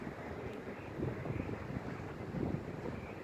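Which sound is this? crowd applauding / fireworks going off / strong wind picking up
strong wind picking up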